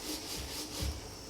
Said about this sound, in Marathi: याला हलकं हलकं लाटावं लागते